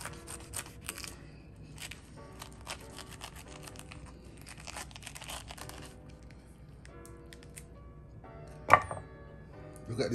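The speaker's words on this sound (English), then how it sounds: "Then I'm gonna use my knife. Okay. And cut the heart out." A kitchen knife cutting the core out of a pineapple, with soft scattered slicing and crunching scrapes, quiet and close, and a single sharper cut near the end.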